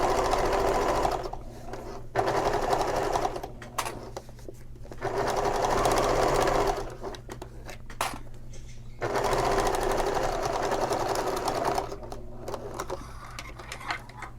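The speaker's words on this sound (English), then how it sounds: "And I will sew this together." A sewing machine stitches a bag seam with a slightly under 3/8 inch allowance through vinyl, running in steady mechanical bursts that start and stop several times, close and fairly loud.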